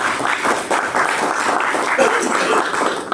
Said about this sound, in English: Go ahead and give Heather a hand clap of praise for being here.